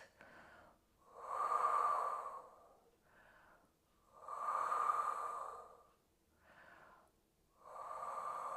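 Close, audible breaths held through a Pilates leg stretch for older athletes, long loud exhales alternating with shorter, softer inhales at a calm, steady pace, with no voices.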